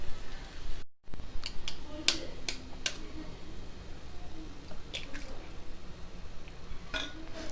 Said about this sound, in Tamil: இப்போது நம்ம எடுத்த முட்டையை ஒன்று ஒன்றா ஒடிச்சு சேர்த்துடலாம்.